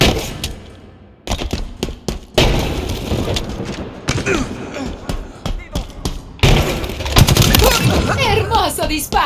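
Gunfire in the Halo Infinite video game: sharp repeated shots and thumping impacts in quick bursts, loud and close, with game voices and effects mixed in throughout.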